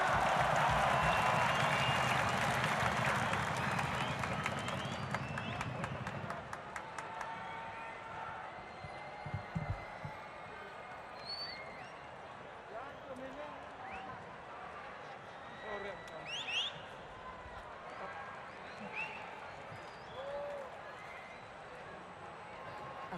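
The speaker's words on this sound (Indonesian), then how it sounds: "Kita beri tepuk tangan yang paling meriah GBK." Vast stadium crowd at a GBK concert applauding and cheering in a loud roar that fades after several seconds into a lower, continuous crowd hubbub with scattered shouts.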